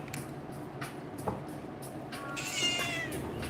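Cat meowing close by in an indoor setting, a few short calls then a longer drawn-out meow near the end, heard over quiet room noise with no talking.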